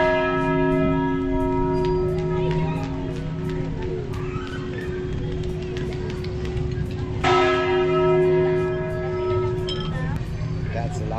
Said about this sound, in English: That's a loud bang. Yeah, one of the loudest bangs ever. The bell.